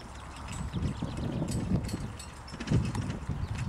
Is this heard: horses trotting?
yes